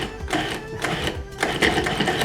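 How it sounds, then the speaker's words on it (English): A food processor whirs as fresh basil is blended into a thick pesto paste, a close, continuous motor drone with a pulsing, chopping texture and slight rises in intensity. "I'm just gonna take a few handfuls of basil and shove them down into the processor and blend it until it's like a paste."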